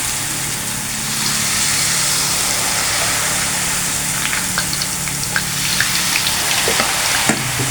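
Peanut crackers (peyek kacang) frying in hot oil, a loud continuous sizzle that swells after a moment, with scattered sharp crackles and pops.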